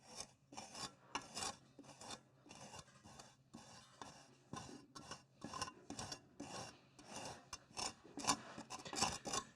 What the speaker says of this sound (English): we're going to just take this miter rod and ride it right on that M100 patch